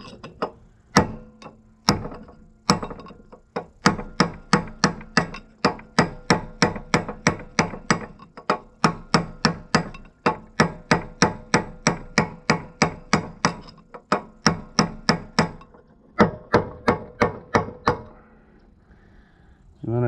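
A punch is hammered around a part of an Oliver 565 tractor plow, giving a long run of sharp metallic blows in a steady rhythm with brief pauses, close and loud.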